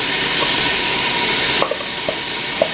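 A handful of mint and coriander leaves sautéing in a hot pan with ginger-garlic paste for chicken biryani, a steady close sizzle that drops slightly partway through, with a few faint utensil taps.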